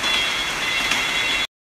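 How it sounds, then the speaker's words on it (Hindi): Heavy rain falls in a steady, hissing wash close by, loud and even for a brief moment with no talk, then cuts off. "इतनी तेज़ बारिश यार"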